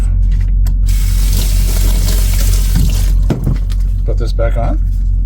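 A kitchen tap runs steadily as a plastic cutting board with a built-in strainer is rinsed under it, the water rushing loud and close with a few knocks and clatters.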